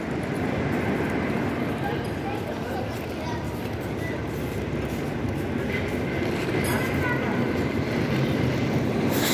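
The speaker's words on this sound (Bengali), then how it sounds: "আমাদের হচ্ছে ট্রেন চলে এসে পড়েছে" A train pulls into a station with a steady heavy rumble, metallic clatter and occasional squeals, while people talk nearby over the noise.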